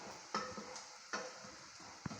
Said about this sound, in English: my garlic and my onions are getting cooked